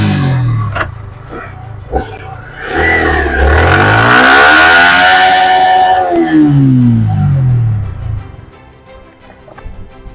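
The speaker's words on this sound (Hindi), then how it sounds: "ये रहा उसका एग्जॉस्ट साउंड।" A second-hand sports motorcycle with its stock exhaust, about 10,000 km on it, revs up from idle into a loud, rising roar, holds briefly at high revs, then drops back to a low burbling idle, close by.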